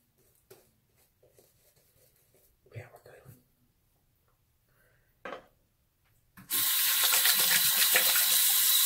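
Water runs steadily from a tap for a straight-razor shave with a Japanese kamisori, a loud continuous broadband gush that starts abruptly after a few soft handling sounds and whispers.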